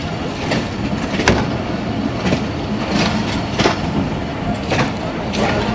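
The Hazara Express rolls along the rails into the Taxila Cantt yard with a steady, loud rumble. The wheels give a rhythmic clickety-clack over the rail joints, heard close up from on board.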